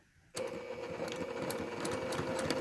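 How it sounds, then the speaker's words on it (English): A sewing machine stitches fabric for an 18th-century shift, starting abruptly after a brief quiet moment and then running in a fast, steady, close whir with a rhythmic mechanical chatter. "I always sew from the hem to the neckline whenever I'm sewing something"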